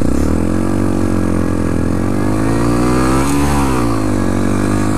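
A 2014 Honda Grom four-speed motorcycle's small single-cylinder engine accelerating on the road, loud and close, with a steady drone whose pitch rises and falls through the gears amid wind rush, no talking.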